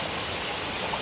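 Rain pours steadily outdoors in Parque Nacional do Alto Cariri, Bahia, a constant soft hiss like running water, unbroken and without voices.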